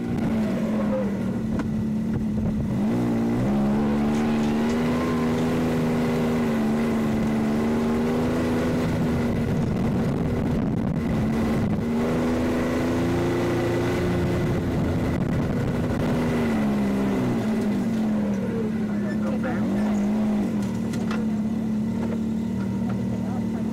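Off-road vehicles and cars drive through heavy traffic at the King of the Hammers off-road event in the desert, a steady droning engine rumble with shifting pitch running throughout, with people talking over it.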